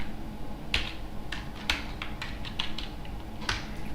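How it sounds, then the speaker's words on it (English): Keystrokes on a computer keyboard as a command is typed, a handful of crisp, close clicks in an uneven rhythm over a low hum, no speech. "Just type python list.py."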